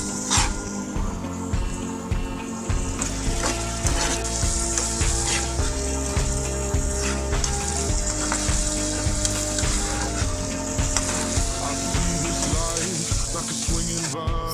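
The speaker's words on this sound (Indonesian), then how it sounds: "Lalu, masukkan sayuran-sayuran yang tadi, lalu tumis-tumis sampai agak layu." Garlic and vegetables sizzle and fry in a hot pan for an omelette, a continuous hiss broken by rhythmic clicks of stirring and scraping, close and steady without talk.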